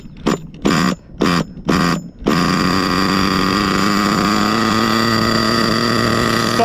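The small 3.5 nitro engine of a Redcat Nitro Earthquake RC truck, which has an engine problem, sputters through several short starting bursts, then settles into a loud, steady high-pitched buzzing idle close by.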